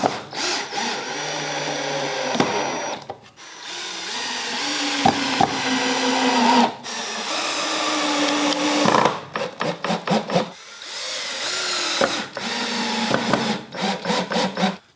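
A power drill drives screws into a wooden outdoor coffee table frame in several bursts of rising whine, with short pauses and clatter of handling wood between them, two screws per joint.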